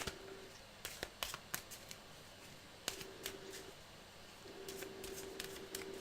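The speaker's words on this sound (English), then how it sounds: "Okay, so I'm trying to shuffle it pretty good here." Playing cards for the 7th Continent board game are shuffled by hand in a quiet room, a run of sharp riffle snaps and clicks in uneven bursts, close and fairly soft.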